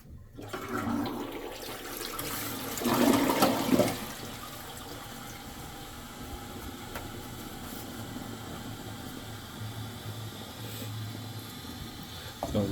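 After a plumber clears a clog, a toilet flushes with a rushing gush of water that peaks early, then settles into a lower, steady refill hiss, close and alone.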